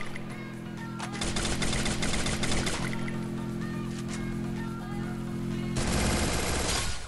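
Rapid automatic gunfire from a Famas rifle with a Giả Kim skin in Free Fire crackles in dense bursts over a steady engine drone from a military vehicle, pausing briefly before another loud volley.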